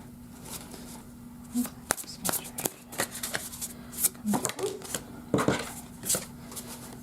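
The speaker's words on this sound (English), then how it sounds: "I've been shuffling for a while" Tarot cards being shuffled by hand, giving a series of crisp riffling and flicking bursts at irregular intervals, close and fairly quiet, with a faint steady hum beneath and a voice briefly audible.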